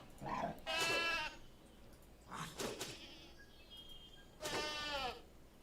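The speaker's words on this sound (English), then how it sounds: "Goat." Goat in the video game Wild Terra 2 giving three wavering, nasal bleats spaced a couple of seconds apart, moderately close with a quiet background.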